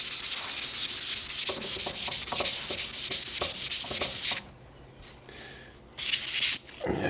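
Hand sanding the rusty sides of an old flea-market block plane with 400 grit sandpaper, a steady run of quick scratchy back-and-forth strokes, close and fairly loud, pausing briefly near the end before a last few rubs.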